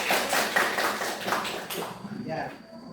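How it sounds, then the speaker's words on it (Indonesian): Classroom applause from students, a burst of brisk clapping lasting about two seconds before fading into quieter room noise. "Bagus, kasih tepuk tangannya."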